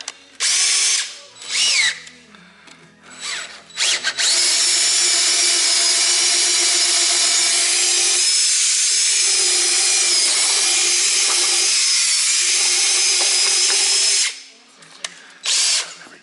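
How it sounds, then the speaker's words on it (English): A power drill bores a half-inch hole through wood in a workshop, whining loudly and steadily for about ten seconds after a few short revving bursts, then stopping. "I need to drill a 1/2-inch hole through the wood."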